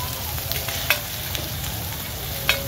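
Steady sizzling of mussels frying in a giant hot pan, with a couple of sharp scraping clicks as the food is stirred or turned.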